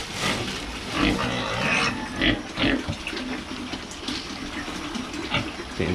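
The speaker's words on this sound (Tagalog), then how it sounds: "Ito yung pakain sa baboy." Pigs on a small farm grunt and chomp at their feeding trough beside water, with irregular close snorts, slurps and wet munching in bursts.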